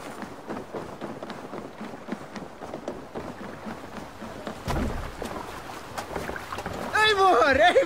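Viking longship setting off on the water in Assassin's Creed Valhalla, with steady splashing and creaking under a talking voice, swelling louder with rushing water near the end.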